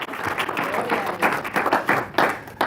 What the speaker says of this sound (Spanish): Yo le volviera a dar otro aplauso a Jesús